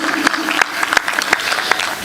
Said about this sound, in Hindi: इतनी ताली तो मैं अकेले ही बजा सकता था